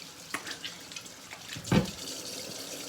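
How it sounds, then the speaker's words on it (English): Tap water runs into a kitchen sink while hands are washed clean of raw sausage mix, a steady close splashing with a few brief clunks and one louder splash partway through. "we'll go ahead and wash my hands here and get all this sausageness off them"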